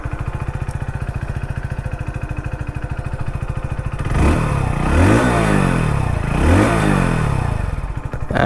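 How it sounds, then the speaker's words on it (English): A Hero Splendor Plus Xtec motorcycle idles with a steady, even exhaust putter, then the engine is blipped twice into louder, rising revs that fall back to idle, heard close with no talking. "let's also hear the exhaust note"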